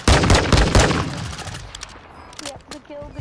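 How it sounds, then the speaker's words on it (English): Video game gunfire cracks in a rapid, loud burst at the start, then fades into sparse distant shots and game sounds. "Getting shot from somewhere."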